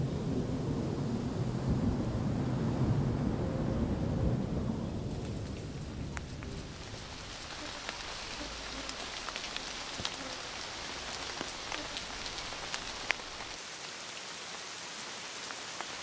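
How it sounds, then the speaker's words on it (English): Windy rain pours down in a heavy rush, a strong low gust dominating at first before easing into a steady hiss of falling drops with scattered sharper patters, no voices present. "The birds prepare for a windy rainfall."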